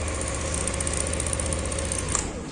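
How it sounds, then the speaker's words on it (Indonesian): A Yamaha NMAX scooter fitted with a keyless remote system runs with a steady close engine hum and no voices over it. "Coba kita starter, ini bisa nyala."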